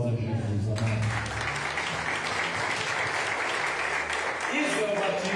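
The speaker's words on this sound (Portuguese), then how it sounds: "Dá um aplauso a Jesus, amado." A church congregation breaks into sustained, dense clapping that fills the room for several seconds, with a preacher's voice heard at the start and end.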